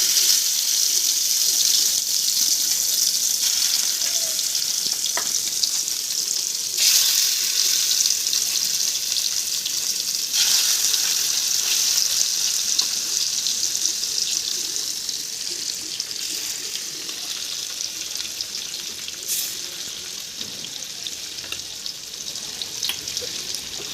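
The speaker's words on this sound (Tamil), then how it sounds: "அடிகனமான பேனில் தேவையான அளவு எண்ணெய் விட்டு நெத்திலி மீன் நல்லா கிறிஸ்பாக வர வரைக்கும் பொரிச்சிடுங்க" Anchovies deep-fry in oil in a heavy pan, giving a continuous bright sizzle with occasional stirring clinks, loud at first and easing slightly toward the end.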